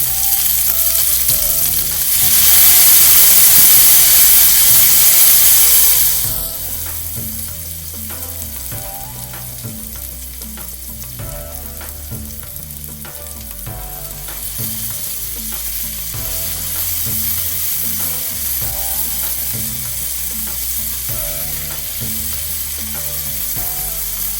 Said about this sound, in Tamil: அதுக்கப்புறமா சின்னதாக வெட்டி வச்ச உருளைக்கிழங்கு முதல்ல போடணும்.